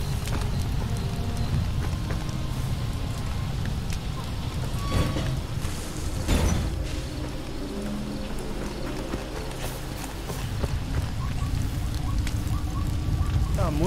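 Fire crackling and burning in the game Far Cry 2, a steady dense roar with scattered pops and a sharper burst midway, filling the scene close and continuous with faint talk beneath.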